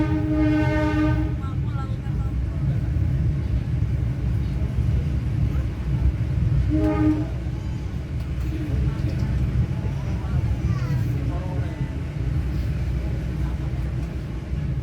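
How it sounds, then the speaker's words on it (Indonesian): Airlangga passenger train pulling into Lamongan station, a loud continuous rumble of wheels and carriages with a long horn blast at the start and a shorter one around the middle, voices mixed into the station noise. "kereta api Airlangga pun tiba di stasiun pertama, yaitu di stasiun Lamongan"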